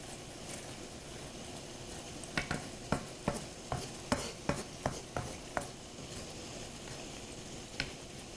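Shrimp cooking in a pan for lemon garlic shrimp pasta: a soft, steady sizzle with a run of sharp utensil clicks and taps against the pan in the middle, fairly faint and close.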